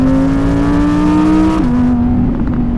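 An Audi R8 V10 performance with 620 hp accelerates hard; the engine note climbs steadily, drops as a gear changes, then builds again, loud and close with no talking.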